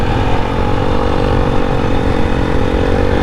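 A Royal Enfield Scram 411 motorcycle engine runs loud and steady throughout, a continuous close rumble with no clear revs or pauses.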